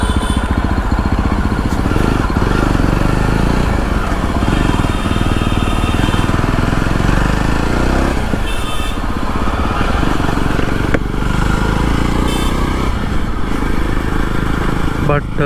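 A Jawa 42 Bobber (Black Mirror edition) motorcycle engine runs steadily at close range for the whole stretch, a continuous low rumble with faint clatter and shifting revs during a ride.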